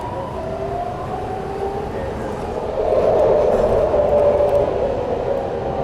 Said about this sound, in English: We're getting off on the BART Transit system.